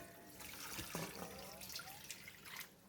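Cold water running over tapioca leaves in a strainer, a faint, steady splashing trickle with small drips and knocks, close and quiet throughout.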